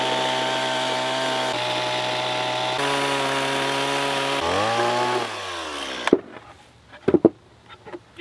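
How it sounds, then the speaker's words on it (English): A chainsaw cuts a door opening through a rock pizza oven, a loud, steady close-up whine shifting pitch as it bogs and revs, then dying away to a few sharp knocks and clatters. "So I'm gonna add a little chainsaw, make a door, button this guy up."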